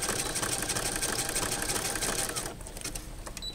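A sewing machine zigzag stitching overlapped Capri Sun juice pouch pieces, a fast, steady mechanical chatter close by that eases slightly toward the end.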